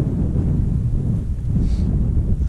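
Wind gusts across an open moorland edge at Derwent Edge in the Peak District, a steady low rumbling buffet that roars continuously against the microphone, with no voices.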